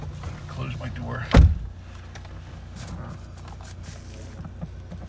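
The door of a 2017 Toyota Highlander XLE shuts with a single solid thump heard from inside the cabin, followed by quiet interior ambience.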